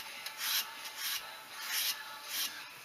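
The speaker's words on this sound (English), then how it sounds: "I'm going to get the rest of this sanded with the 320" Sandpaper rubs back and forth over a wooden shotgun stock on a .410 under repair, steady rhythmic rasping strokes, close and fairly quiet, with no voices.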